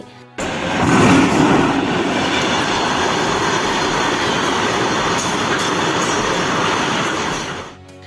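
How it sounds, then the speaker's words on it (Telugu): A driverless goods train rolls steadily past on the rails, its broadband rumble and clattering wheels holding loud and close for several seconds before fading off at the end. "ఇగో గా డ్రైవర్ లేని గూడ్స్ బండి గిదే"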